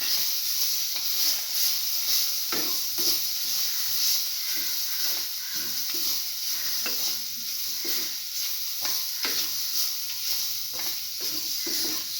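Grated coconut is sautéed with an onion mixture for a tamarind dip, sizzling and hissing steadily in the pan while a spoon stirs and scrapes in repeated sharp knocks.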